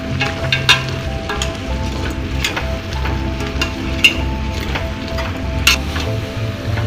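Coriander powder, curry masala and chicken masala powder are stir-fried in a pan, with steady sizzling broken by sharp scrapes and taps of a spoon against the metal.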